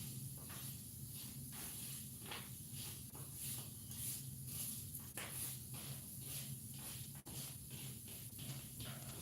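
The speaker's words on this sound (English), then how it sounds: "I'm stirring the pumpkin seeds around a little bit right now" Pumpkin seeds are stirred around in a baking pan, giving soft, rhythmic scraping and rustling strokes that repeat steadily at close range, faint and without talk.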